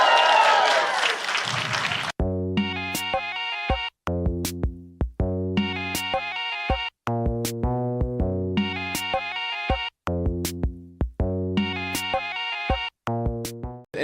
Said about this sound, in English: So how about a nice hand for our friend?